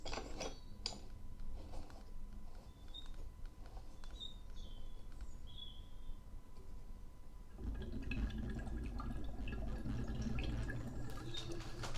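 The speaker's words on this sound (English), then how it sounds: "You should be able to see through the windows the bubbles going in, and also hear it." Gas from a soda capsule hisses and gurgles into a vintage 1930s–1940s Soda King siphon bottle, with bubbling and small squeaky chirps, growing louder and fuller partway through.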